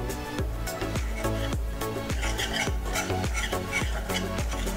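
Jute leaf batter being mixed with flour, salt, sugar, turmeric, chilli powder and poppy seeds, heard as a steady rhythmic stirring and scraping against a bowl, repeating about twice a second over a low musical bed, with no talk.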